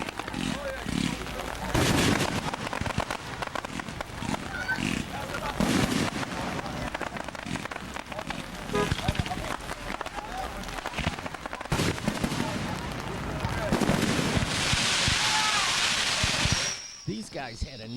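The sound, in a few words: fireworks exploding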